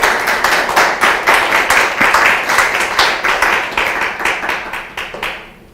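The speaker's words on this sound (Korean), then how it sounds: "큰 박수 부탁드립니다." An audience at a business seminar claps steadily in a dense, close burst of applause that tapers off and fades out at the end.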